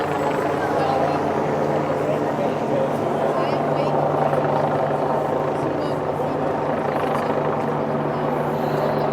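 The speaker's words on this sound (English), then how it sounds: "Or maybe a news helicopter." A steady news helicopter rotor drone hums continuously overhead at a large London protest march, loud and constant, with a voice talking over it.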